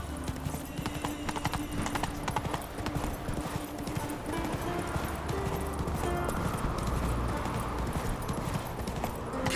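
Roach, a horse in The Witcher 3 video game, gallops with rapid rhythmic hoofbeats, close and steady, over a busy background of game ambience and music.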